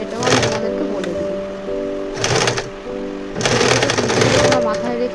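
A sewing machine stitches a small dress for a Laddu Gopal doll in bursts of steady whirring, three runs broken by short pauses and clunks, loud and close.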